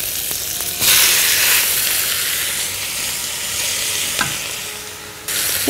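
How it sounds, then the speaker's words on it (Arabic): Butter and skinned sausage frying in a pan for a pasta sauce, with a steady loud close sizzle and hiss broken by a few utensil scrapes and stirring knocks. "بالنسبة للصوص هنحط الزبدة والسجق"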